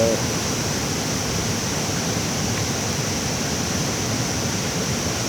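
Tad Tham Champee waterfall in Laos roars as a steady, full broadband rush, close and constant throughout with no pauses.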